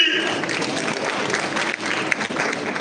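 A crowd at a funeral ceremony gathering breaks into sustained applause, dense steady clapping at moderate distance with voices mixed underneath.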